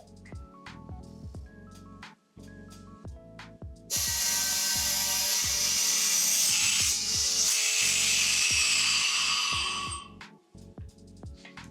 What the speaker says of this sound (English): I am going to break this vacuum, and hopefully it makes a fun noise